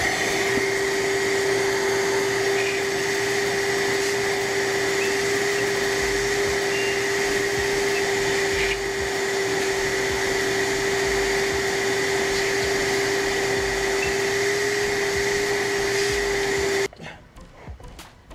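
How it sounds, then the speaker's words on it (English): A vacuum cleaner runs with a steady loud whine, sucking up metal shavings in a workshop, a constant close motor tone that cuts off abruptly near the end. "I'm gonna get my vacuum cleaner back there and vac the shavings out of this thing"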